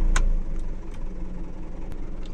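A car engine idles steadily in hot Dubai weather, a low continuous rumble up close with a brief brighter burst near the start, no voices over it.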